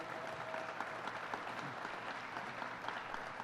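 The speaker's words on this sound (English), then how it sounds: "Let's give him a round of applause" An audience at a park funding announcement applauds the mayor, a steady, dense wash of many hands clapping at a distance, fairly quiet and continuous without speech over it.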